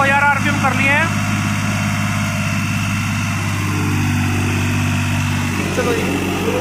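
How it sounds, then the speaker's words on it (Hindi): A New Holland 3630 4x4 tractor engine runs at 2000 RPM with a loud steady mid-pitched drone and vibration, continuous throughout while someone talks over it. "2x2 चला के देख रहे हैं कितना का आरपीएम ड्रॉप करता। बस सियान भाई 2x2 पे चला के देखेगा, 2000 आरपीएम कर लिए हैं।"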